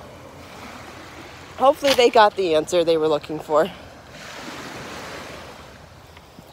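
Gentle ocean waves washing in on a clear-water beach, a soft continuous surf wash heard faintly under a voice, then swelling slightly as a breaking wave rolls in alone near the end.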